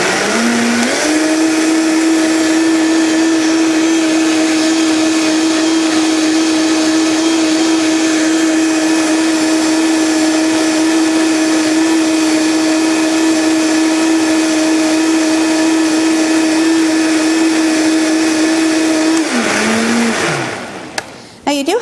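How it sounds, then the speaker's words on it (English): A Vitamix blender purees raw soup with a loud, steady motor roar at constant pitch that holds for about twenty seconds before winding down and stopping. "we're going to blend it a little bit more again"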